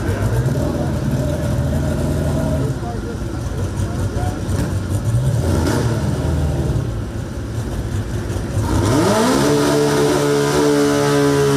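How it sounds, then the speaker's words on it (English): A naturally aspirated VW Type 3 drag car does a burnout at a drag strip, its engine roaring loud and steady, then revving sharply upward near the end while talk carries on over it. "Burn out, and that thing sounds sick."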